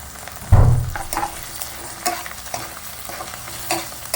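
Chopped tomatoes stirred into onions frying in oil for a Bengali katla fish curry: one loud scrape of the spatula at the start, then steady sizzling with occasional lighter stirring clinks.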